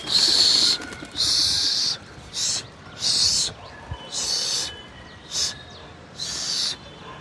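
Repeated bursts of fluttering pigeon wings, seven or so quick flurries in a row, fairly close and evenly spaced with short pauses between them.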